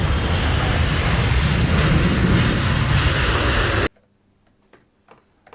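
A Boeing 777 airliner jet roars loudly and steadily with a broad rushing engine noise, then cuts off abruptly, leaving near silence with a few faint ticks and clicks.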